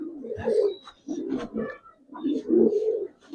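A male Giribaz pigeon coos nearby in two long, throaty bursts separated by a brief pause, low and rolling, with no voices present.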